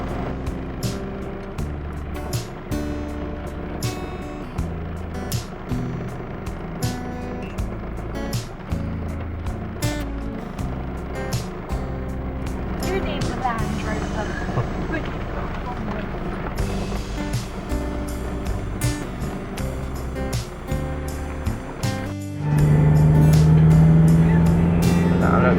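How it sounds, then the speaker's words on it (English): A camper van driving slowly along a potholed road, a steady engine and road rumble with occasional bumps and knocks, close and continuous; music plays and a voice talks over it. "Got to do a slalom around all these potholes"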